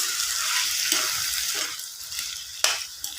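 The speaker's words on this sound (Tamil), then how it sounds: "இப்போ இது கூடவே நான் கொஞ்சம் உப்பு, மிளகாத்தூள், மஞ்சத்தூள் சேர்த்து நல்லா கலந்து விட்டுக்கிறேன்." Potatoes frying in a pan with salt, chilli powder and turmeric give off a steady hissing sizzle close by, broken by a few scraping stirs, with no talking.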